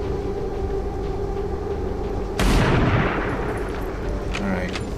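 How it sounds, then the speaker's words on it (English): A single sharp soldier's rifle shot in XCOM 2 cracks out loud and close, leaving a decaying rumble over steady game ambience and music, with a couple of fainter blips afterward. "hopefully Kaiser will take a shot at him"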